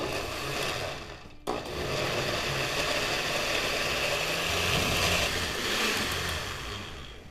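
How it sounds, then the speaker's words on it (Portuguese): A kitchen blender whirs steadily as it purees grated raw carrot with two other ingredients for a homemade cake batter. The motor drone cuts out briefly, then resumes at full, loud, continuous speed. "Então, eu vou ligar o liquidificador e bater muito bem esses 3 ingredientes."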